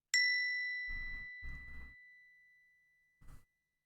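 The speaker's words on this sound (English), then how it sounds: "Did not expect the bell." A bell in a horror video game gives one bright struck ding that rings out and slowly decays, with a few soft low thuds and rustles under the fading tone.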